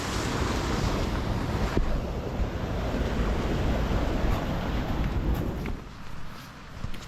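High, fast-flowing River Tyne in spate rushing past a weir, a steady loud broadband roar of churning water with wind buffeting the microphone, easing slightly toward the end.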